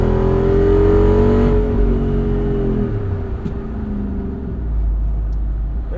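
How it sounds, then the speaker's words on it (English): A Jeep Wrangler brake-boosts and launches, its engine revving loudly with strong rising harmonics that climb as it accelerates, then fade and settle into a lower drone, close by and with no talk. "You just kind of brake boost it and launch and you're off."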